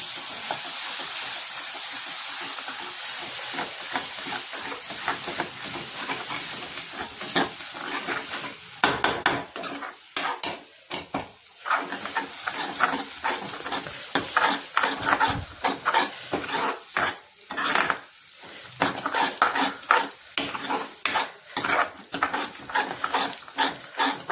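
Chopped tomatoes sizzle steadily in a hot pan while a spoon stirs and scrapes through them, a loud continuous hiss broken by rhythmic scraping strokes up close.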